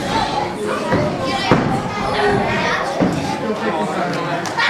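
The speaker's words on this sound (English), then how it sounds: "And listen to the crowd." Ringside crowd at a professional wrestling show, a steady dense roar of voices and chatter with occasional thuds from the ring cutting through, loud and continuous throughout.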